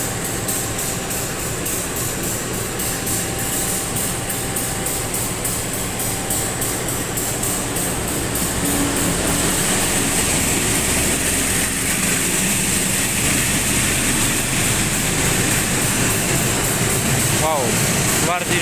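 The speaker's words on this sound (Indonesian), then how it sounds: "ada kereta yang persiapan masuk ya" A train pulls into Cirebon station with a steady, broad rumble and rolling noise that builds and stays loud throughout, while someone talks over it.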